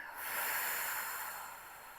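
A single forceful exhale, breathy and close, is released during a pilates abdominal exercise that strengthens the deep core muscles. It lasts about two seconds with no speech.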